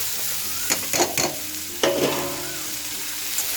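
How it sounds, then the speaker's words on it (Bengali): Pumpkin and potato pieces stirred in a pan of hot spices, with a steady sizzle of frying under several scraping stirs of the spoon, close and clear with no voices. "এভাবে আলু এবং কুমড়ো দেওয়ার পর এভাবে নাড়িয়ে চাড়িয়ে দিচ্ছি"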